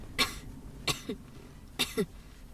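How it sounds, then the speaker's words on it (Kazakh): Three short, sharp coughs ring out close and fairly loud, with quiet pauses in between and a brief throat-clearing catch after the second and third. "Жөтелмеңдер, ауырмаңдар."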